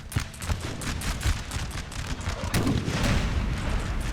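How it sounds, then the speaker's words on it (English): Musket volleys crackling in rapid, irregular bursts during a Napoleon: Total War battle with Ottoman troops, mixed with booming artillery, dense and continuous with no voices. "The recruits are opening fire towards the line."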